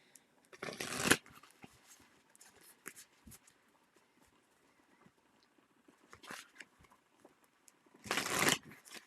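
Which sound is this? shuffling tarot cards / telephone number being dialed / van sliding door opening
shuffling tarot cards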